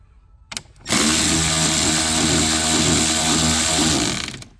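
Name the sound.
power tool removing Torx T30 screw from Range Rover dashboard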